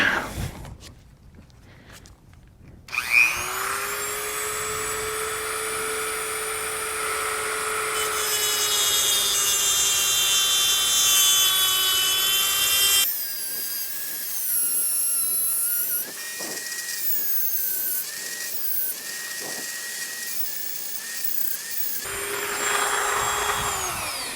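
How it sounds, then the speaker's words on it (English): A Dremel cutting wheel grinds through the metal clamps on an outer axle CV boot of a Chevy Cobalt or Pontiac G5. A loud, close, high whine runs for long stretches, shifting pitch as it bites, then stops briefly and starts again. "I'm going to cut them off with a Dremel wheel."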